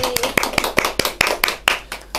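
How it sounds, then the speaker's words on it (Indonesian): An audience claps to welcome a guest on a talk show, about ten sharp, evenly spaced claps ringing close and loud in a short burst. "kita tepuk tangan dulu untuk Teh Liah Julia"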